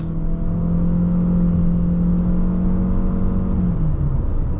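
A Chery Omoda C5 with a 1.5-litre turbo engine and CVT whines at high, steady revs while climbing uphill, a loud sustained drone that shifts pitch slightly near the end.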